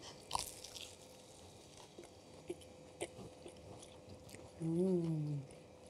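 Quiet kitchen setting with small soft crunches and bites into crispy fried black pudding cromesquis, a few isolated crisp snaps amid faint room noise, followed by a short louder hum-like sound near the end.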